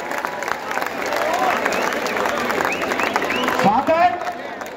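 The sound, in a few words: crowd applauding the women's Govinda troupe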